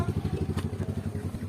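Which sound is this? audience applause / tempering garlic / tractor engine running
tractor engine running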